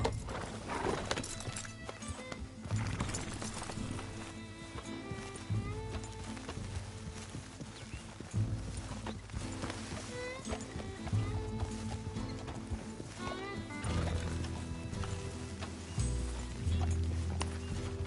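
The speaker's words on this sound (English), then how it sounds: "Just get on the horse." Horse hooves clip-clopping at a gallop with occasional whinnies in Red Dead Redemption 2, running steadily over a dense bed of game music and ambience with no voices.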